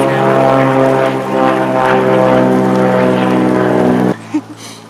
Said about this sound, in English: Seaplane. There's a seaplane service that happens